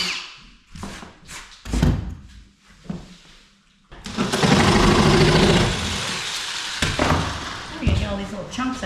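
Power tool blade cutting into a drywall wall during a house re-plumb, a harsh sustained grinding burst following short bumps and knocks, loud and close.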